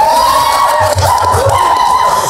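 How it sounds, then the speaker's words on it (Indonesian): Studio podcast audience of supporters clapping and cheering, a short loud burst of crowd noise with shouts and whoops over brief clapping. "Tepuk tangan lagi boleh."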